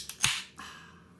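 A can of Warheads Extreme Sour Black Cherry beer from Artisanal Brew Works is cracked open with a quick, close click and a short hiss of escaping gas, then fades to quiet.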